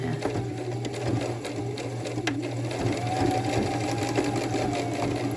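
A sewing machine runs steadily in a continuous mechanical whir with a fast, even needle rhythm as it stitches a zigzag, loud and close, with no talk.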